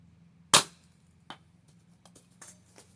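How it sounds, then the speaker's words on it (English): A knife batoned through a log to split the wood, with one sharp loud crack followed by a few fainter knocks and taps, close up with no talking. "Batoning is real easy, and you can control your swing and be more accurate."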